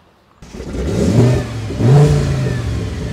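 An Audi RS6 fitted with a 1000 hp V10 starts up and revs twice with its exhaust valve closed, giving a deep, muffled roar that swells, dips and surges again before settling into a rumbling hold.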